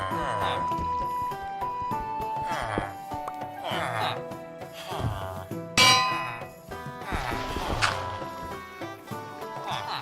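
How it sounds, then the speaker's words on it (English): Repeated metallic bell clangs from a Minecraft bell, struck again and again in irregular bursts over a steady bed of game music, loud and close with occasional sharper hits. "Kiko says ringing the bell again"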